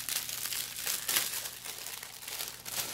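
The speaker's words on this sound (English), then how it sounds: "weird crinkly noise, so if you don't like it, like, mute your headset for like 20 seconds" Crinkly plastic packaging is handled and crumpled during the unboxing of a crystal and gem kit, a continuous close rustling with uneven bursts and no talk over it.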